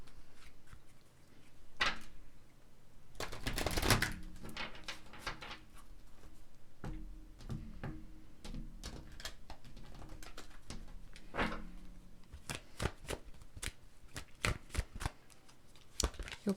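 Tarot cards shuffled and drawn during a weekly tarot reading, with repeated crisp riffling bursts and soft slaps of cards laid down, close and clear with no talking.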